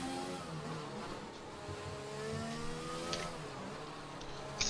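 Formula 1 car engine on a competitive lap of the Baku circuit in the F1 2020 video game, a faint, steady whine with gear-shift pitch sweeps rising and falling throughout.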